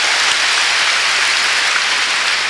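A church congregation at a Korean Jerusalem church claps together during a sermon, a dense steady wash of applause filling the space without pause.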